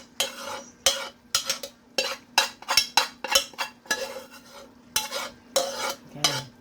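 A spoon stirs stuffed pepper filling with beef broth juices in a pot, a regular series of wet scraping strokes, about a dozen in quick rhythm, close and clear against a faint background hum.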